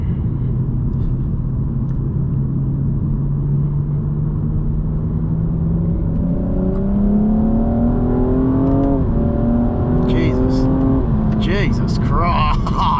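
A BMW M235i engine drones steadily from inside the car, then climbs in pitch as it accelerates hard through the gears, loud and close, with brief shouts over the end.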